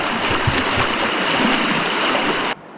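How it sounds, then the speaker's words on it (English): Water rushes through an underground cave, a steady broad roar that fills the space and is loud and close, then cuts off abruptly near the end. "Water's flowing pretty good in here."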